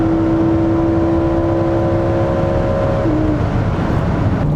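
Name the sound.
Lamborghini Huracan EVO naturally aspirated V10 exhaust sound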